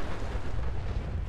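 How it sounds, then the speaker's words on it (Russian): A loud explosion in Fallout 4, a dense, roaring rumble that fills the whole short stretch with no pause or talk. "Но взрыв был зачетным."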